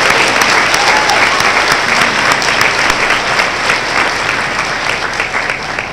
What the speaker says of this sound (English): Can everyone please give the graduating class of 2019 of the Physical Therapist Assistant Program a round of applause?